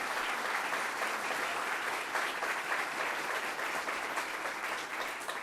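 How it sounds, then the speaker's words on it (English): An indoor audience applauds steadily at a state government renewable-energy announcement, a dense, sustained wash of clapping at even volume from start to finish. "Let's give him a round of applause for the great work he does."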